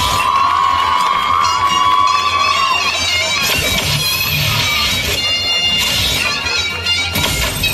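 Guests at an outdoor Turkish henna night celebration welcome the bride and groom with sustained clapping and cheering, loud and continuous, with children shouting in the crowd and a high tonal whistle over it.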